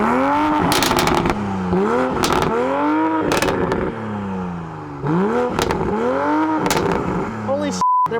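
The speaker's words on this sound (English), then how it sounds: "So let's fire up the Supra and see how that sounds." A Toyota Supra's engine roars through repeated loud revs, each rising and falling sharply, with crackling pops and bangs from the exhaust between blips, close and aggressive throughout.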